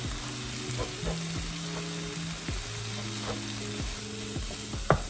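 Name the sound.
masala being stirred and fried in a pan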